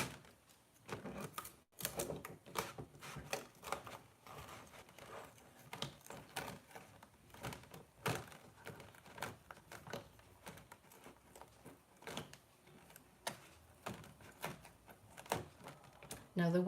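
A Brother ScanNCut machine cutting a design gives irregular tapping and clicking bursts with short pauses, moderately quiet, while a person talks intermittently.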